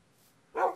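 A dog in the video game Minecraft gives a single short bark near the end, close and fairly loud after a quiet stretch.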